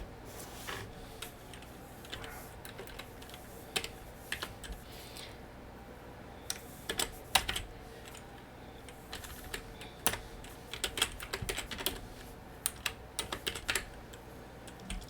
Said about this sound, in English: I will try to just type it in correctly.